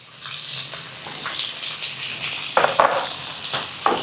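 Chopped tomatoes sautéing in a pan for Kerala-style ulli sambar give a steady, close sizzle. Wet crackles and soft stirring scrapes run through it, with a few louder bursts near the end.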